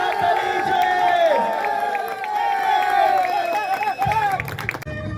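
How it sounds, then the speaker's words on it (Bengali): At the prize ceremony for the 2026 Kanaipur Premier League champions, Bengaluru, a crowd cheers and claps beneath a loud, sustained voice that dominates the foreground. The noise ends in a brief burst of clatter. "জোরে হাততালি"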